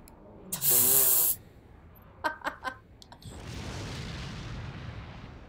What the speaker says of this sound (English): You hit a grenade.